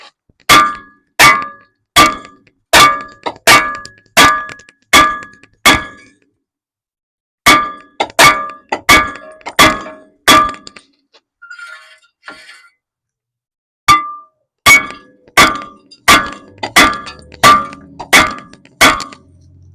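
Repeated ringing metal clangs from a hammer striking a stuck steel brake rotor on a Jeep Cherokee, delivered in rapid runs of evenly spaced blows with a brief lull midway.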